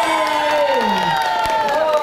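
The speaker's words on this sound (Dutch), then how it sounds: "Ik wil een enorm applaus voor Saïd en Nastia" A dense beach-venue crowd cheering and whooping with a steady roar of voices, some high shouts rising above, continuous for the whole stretch.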